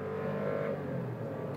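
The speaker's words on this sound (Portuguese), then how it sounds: "Troca de marcha do câmbio automático" Turbocharged Volkswagen Virtus Highline 2023 or Honda City Touring 2022 sedan accelerating hard from a standstill, its automatic transmission shifting gear; a steady, loud engine drone from inside the cabin, pitch dropping slightly as the gear changes, with no talk.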